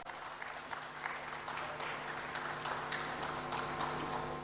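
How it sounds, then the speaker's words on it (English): Audience applause at the Telangana Rising Global Summit welcoming a session moderator, a steady wash of clapping from a large hall, moderately loud and continuous with no talk over it. "with a huge round of applause."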